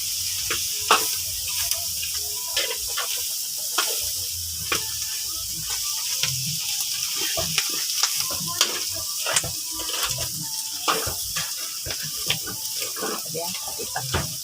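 Pork innards frying for dinuguan: a constant hiss of sizzling under scattered clicks and scrapes from stirring, with a voice talking over it throughout.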